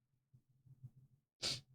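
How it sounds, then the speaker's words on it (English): A single sharp, loud sneeze bursts out close to the microphone after a few seconds of soft, shaky breathing. "The sneeze caught me off guard."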